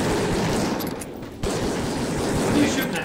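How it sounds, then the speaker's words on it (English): Heavy gunfire from enemies in the Raw Data virtual reality game, a dense rattling barrage of rapid shots that pauses briefly before resuming. "That is a pissing load of gunfire."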